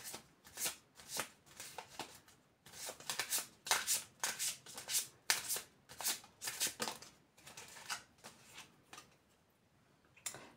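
Tarot-style reading cards shuffled by hand in a steady run of crisp, riffling bursts, close and fairly loud with short pauses between passes and no talking.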